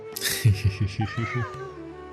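A cat in the video game Genshin Impact meows, a string of quick rhythmic mews followed by a rising, drawn-out cry, close and clear with a soft game backdrop and no talk.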